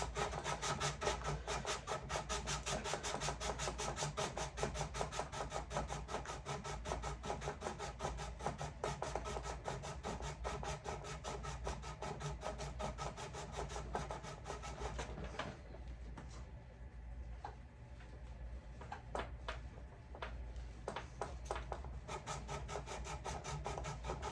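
Abrasive grit is worked against the muzzle crown of a rifle barrel, a continuous, rapid rubbing and scraping close up that briefly eases partway through before resuming.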